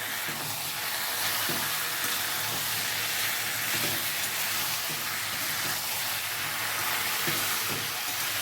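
Jackfruit being sautéed with other ingredients in a pan, a continuous close sizzling hiss with faint periodic scraping of stirring, no talk.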